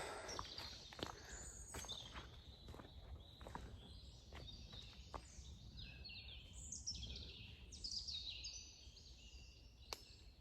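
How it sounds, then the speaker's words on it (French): Scattered chirps and short bird calls ring out over a quiet outdoor background in a park, with occasional soft footsteps or taps nearby. "Des oiseaux qui chantent."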